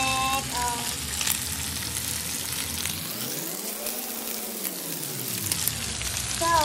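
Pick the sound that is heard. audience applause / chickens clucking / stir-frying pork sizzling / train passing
stir-frying pork sizzling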